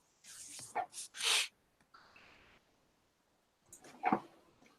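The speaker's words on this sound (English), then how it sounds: "Sorry about the dog." A dog makes a few short whimpering yelps and snorty barks in quick succession, faint and indoors, then falls quiet before one more soft bark-like burst.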